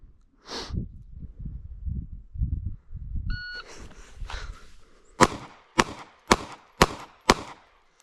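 A brief electronic beep of a shot timer, then five loud, evenly spaced gunshots from a S&W Bodyguard 2.0 pistol cracking in quick succession.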